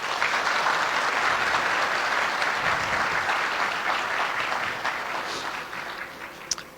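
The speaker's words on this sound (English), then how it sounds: "Let's give another big applause for them." An audience at a speaking event gives sustained applause, dense steady clapping throughout that gradually thins toward the end.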